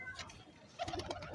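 A pigeon released by hand among a loft of pigeons with young, giving a few soft coos and brief fluttery sounds, louder toward the end of the moment.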